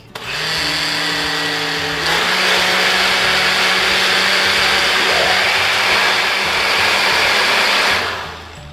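A blender mixing mango avocado cheesecake batter whirs loudly and steadily for several seconds, its pitch shifting slightly partway through before it winds down.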